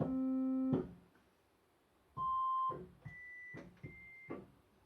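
A short run of separate notes from an organ's four-foot tibia stop, with a clear, flute-like quality: one lower held tone, then three higher notes, each ending crisply, fairly quiet.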